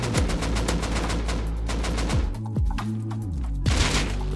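Rapid automatic gunfire from a Rust PvP fight during an online counter raid, with dense, loud bursts nearly throughout, a brief lull, then more shots, and no speech.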